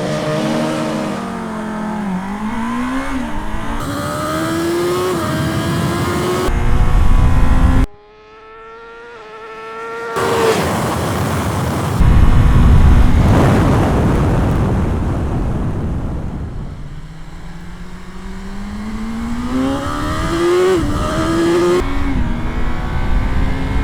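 A 2025 BMW S1000RR and a 1985 Kawasaki race a standing quarter mile. Engines rev hard and climb through repeated gear-shift sweeps, with a brief drop, then another loud, rising run as they pass near and fade slightly.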